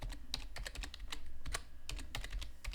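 Brisk typing of a search on a computer keyboard, with a steady stream of close, crisp key clicks in quick succession over a faint low hum.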